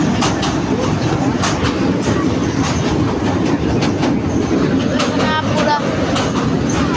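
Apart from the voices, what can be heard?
moving passenger train clattering on rails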